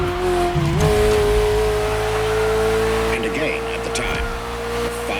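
A Ferrari sports car engine in the video game The Crew Motorfest holds a steady high drone, then shifts and revs again, loud and close, with some talking underneath.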